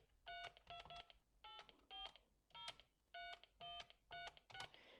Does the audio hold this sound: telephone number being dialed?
yes